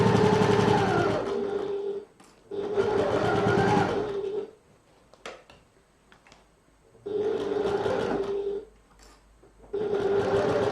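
A sewing machine stitches a seam in close, whirring bursts of about two seconds each, separated by quiet pauses filled with soft fabric handling and small clicks.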